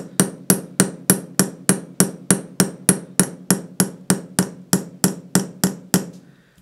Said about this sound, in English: You're gonna move and hammer at the same, in the almost exact same way that you just did with the other lining tool.